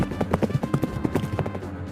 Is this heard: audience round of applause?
no